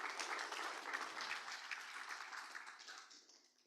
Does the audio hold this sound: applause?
yes